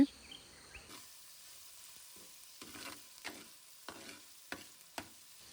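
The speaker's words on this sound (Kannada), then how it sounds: "ಟೊಮೆಟೊ ಮತ್ತು ಆನಿಯನ್ ಒಂದು ಸ್ವಲ್ಪ ಬೆಂದ ನಂತರ ಅದಕ್ಕೆ ಒಂದು ಸ್ವಲ್ಪ ಅರಿಶಿನ ಕೂಡ ಸೇರಿಸ್ಕೊಂಡು ಅದನ್ನು ಒಂದು ಸ್ವಲ್ಪ ಚೆನ್ನಾಗಿ ಫ್ರೈ ಮಾಡ್ಕೊತಾ ಇದ್ದಾರೆ" Tomato and onion fry with turmeric for a village-style banana stem curry, giving a faint, steady sizzle. A spatula scrapes the pan every half second or so, with no voices.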